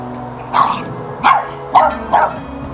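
Dog running around with a stick during a Honda CB500 race motorbike strip-down, barking four times in a steady rhythm, close and fairly loud over low background noise.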